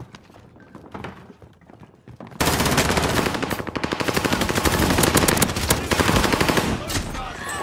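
Call of Duty gunfire breaks out suddenly as loud, rapid automatic bursts after a quieter stretch. The fire keeps up steadily for several seconds at close range, with faint voices underneath.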